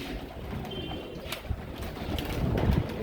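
Royal Teddy pigeons, young and adult birds together, give soft, low cooing murmurs that rise and fall steadily under a faint background hum, with one brief sharp click partway through.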